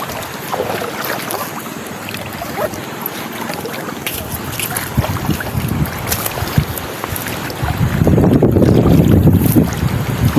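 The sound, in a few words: boat ride in strong wind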